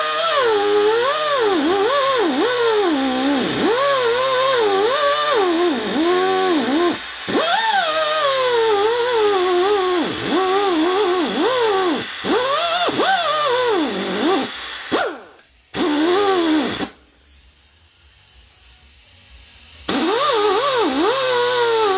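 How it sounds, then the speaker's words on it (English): A die grinder whines while cutting through an outer washer. Its high pitch rises and falls constantly as it bites into the metal. The grinding cuts out twice near the end, leaving a quieter hollow stretch, then starts again. "I'm just going to take this die grinder and I'm going to cut right in the middle of that"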